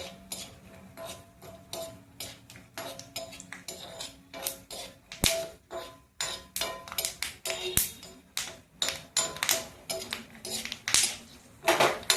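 Dry peanuts rattle and scrape in a metal pan as they are dry-roasted and stirred to loosen their skins, a steady clatter of bursts with a low hum underneath and no talk.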